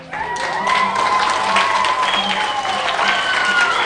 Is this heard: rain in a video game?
no